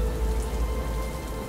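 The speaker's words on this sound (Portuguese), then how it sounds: "Olha a água da chuva caindo no chão" Steady, heavy rain falls on the ground in the video game Batman: Arkham Knight as a dense, even hiss with a low wash beneath it. It fills the whole moment with no voices.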